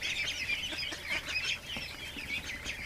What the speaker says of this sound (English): Hello, ducks.